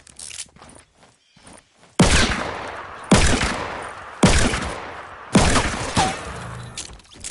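Four heavy revolver shots in a battle royale video game fire at a slow, roughly one-second pace after some quieter footstep-like thumps. Each shot is loud and close and trails off in a long decaying boom.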